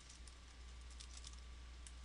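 Quiet, steady typing on a computer keyboard while entering Java code, with soft continuous key clicks and a faint low hum in the background.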